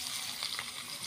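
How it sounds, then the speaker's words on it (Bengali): A bowl of sliced onions hits hot oil in a pan while cooking til kundri, giving a brief, faint, steady sizzle with no voices. "ওই তেলের মধ্যে দিয়ে দিচ্ছি পেঁয়াজ"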